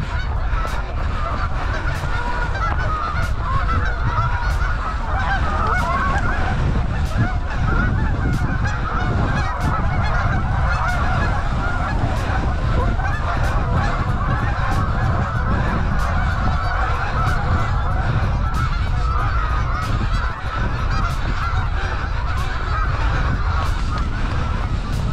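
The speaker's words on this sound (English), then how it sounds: "I have an army of geese up ahead of me on the path." A large flock of geese honks constantly along a riverside path, a loud overlapping chorus of calls that carries on without a break, with no voices over it.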